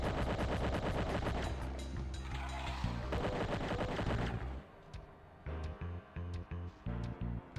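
Video game gunfire from enemy snipers across the map, with dense rapid shots that give way to a series of separate loud bursts.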